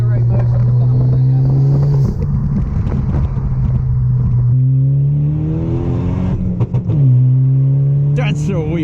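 Loud, close engine drone from inside a Ford Focus ST with a big turbo, pitch climbing and dropping through several pulls, with people talking over it.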